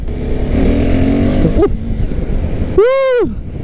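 A motorcycle engine revs and pulls hard during a test ride, a close loud drone rising in pitch before a sharp, short rev sweeps up and falls back.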